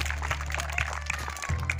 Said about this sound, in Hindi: सब लोग ताली बजाएंगे।